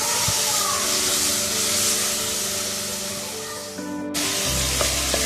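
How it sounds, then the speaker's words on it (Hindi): Onions frying in a pan, a loud, steady broadband hiss and sizzle throughout that cuts off abruptly near the end, leaving a lower hum with faint clinks. "हम प्याज को फ्राई करेंगे। थोड़ा सा लाइट ब्राउन हो जाएगी।"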